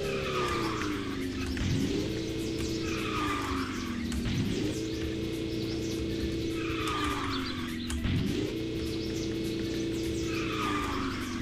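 A fully upgraded Saber SR-R drifting in a racing video game: a steady engine tone swoops down and back up in repeated slides, with bursts of tire squeal. It is loud and continuous, with no voices.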